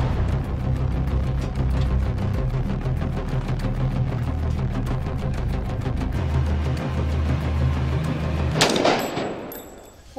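A long rapid burst of gunfire, evenly spaced sharp reports hammering in fast succession for about eight seconds, ending in one loud, bright blast followed by a brief ringing tail.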